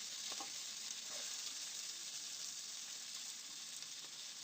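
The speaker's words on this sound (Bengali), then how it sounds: "এখন আলু পটলটা দিয়ে মশলার সাথে আরও কিছুক্ষণ এইভাবে কষিয়ে নিচ্ছি।" Pre-fried potato and pointed gourd being sautéed with spices in a pan, an even, continuous sizzle with a few soft stirring scrapes, close and unbroken, without speech.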